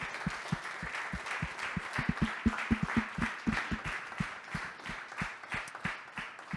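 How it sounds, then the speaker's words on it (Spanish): Congregation members at a bilingual Spanish-English church service clap together, a run of sharp, fairly rhythmic hand claps that swell in the middle and thin out toward the end, with no speech over them. "Vamos a darle un Congratulations. aplauso"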